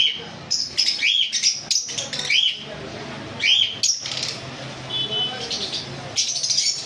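Several bright lovebird chirps and short tweets come in bursts over a steady background murmur, fairly close and lively, in a bird shop.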